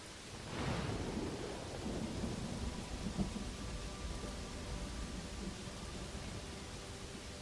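Thunder rolls after lightning in the game Pathfinder WOTR, a low rumble rising early then lingering under a continuous rainy wash, moderately faint with no talking.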